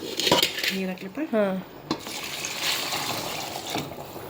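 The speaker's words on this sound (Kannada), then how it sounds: "ಈಗ ಇದೆಲ್ಲ ಸೊಪ್ಪೆಲ್ಲ ತೊಳೆದು ಕೆಸಿಂದ ಈ ಕುಕ್ಕರಿಗೆ ಹಾಕ್ತಾರೆ" Leafy greens being washed and put into a pressure cooker in a home kitchen: metal pots and utensils clank and scrape, with some splashing water, close and fairly loud, and a voice speaking briefly.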